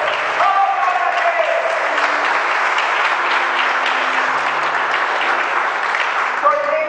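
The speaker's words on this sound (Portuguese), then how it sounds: "Vamos aplaudir a Jesus!" Applause rises from a church congregation at an evangelical service in Ribeirão Preto, a steady wash of clapping that fills the full stretch, with sustained tones, likely organ or keyboard, running underneath.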